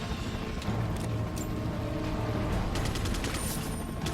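Rapid gunfire and blasts from the video game Resident Evil 4, a dense, continuous fusillade of overlapping shots with sharp cracks standing out toward the end, loud throughout with no talk.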